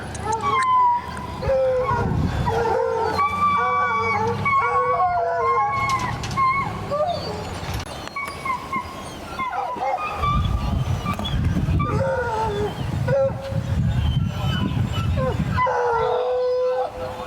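Hunting dogs on a Florida Panhandle deer hunt howl and bark almost continuously, a loud chorus of overlapping bays and yelps that carries through the whole stretch.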